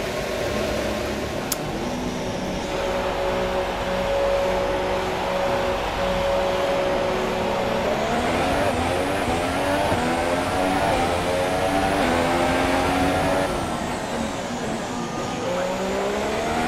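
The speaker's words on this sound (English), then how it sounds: "All personnel be aware we have a car leaving." An F1 car in the video game F1 2017 driving out of the pits, with a steady engine hum that rises into high revving gear changes, loud and continuous.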